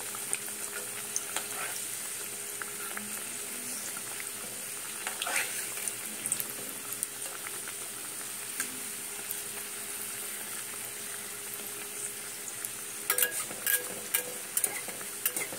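Aloo paneer samosas frying in shallow hot oil, a steady close sizzle with scattered crackles and a brief burst of louder popping near the end.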